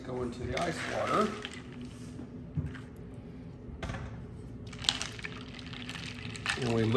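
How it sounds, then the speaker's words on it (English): Blanched potato fries are dropped into a bowl of ice water, giving a few wet splashes and sloshes, one early cluster and another later, close to the microphone, with a voice speaking in the kitchen. "Now these go into the ice water."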